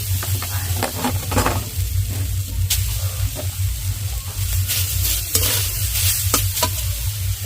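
Grated coconut being stirred and fried in a wok for moong dal puli, giving a steady sizzle with scraping strokes of a spatula over a constant low hum, no voices.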